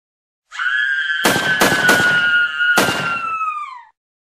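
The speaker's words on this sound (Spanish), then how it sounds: "escuchamos los gritos de Pibi, seguido de unos balazos." Four sharp gunshots ring out, three in quick succession and one more after a pause, over a loud wailing siren-like scream.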